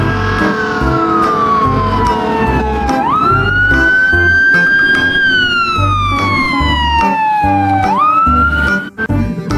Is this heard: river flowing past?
no